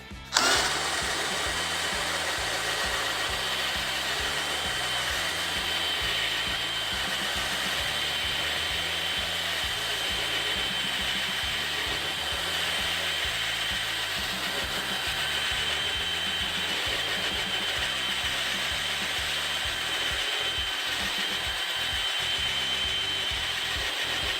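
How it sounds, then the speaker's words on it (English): A DeWalt 18V brushless hammer drill on speed 1 bores a Forstner bit into fresh wood, running as a steady, loud motor whine for over twenty seconds with a low, chattering cutting rumble underneath. "Forstner bit, speed 1 into a fresh piece of wood."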